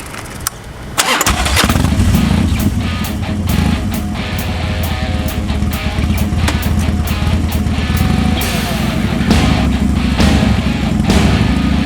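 A heavy dirt bike engine starts up abruptly and then runs loudly and steadily, rumbling close by with a rough, throbbing idle throughout.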